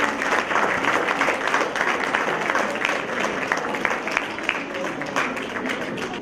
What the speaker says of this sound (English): please give a big round of applause for Ms. Preeti Singh.